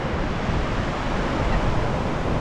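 Wind blusters steadily past the microphone as a constant broad roar on a ride near St. Augustine during Daytona Bike Week, with no other clear sounds.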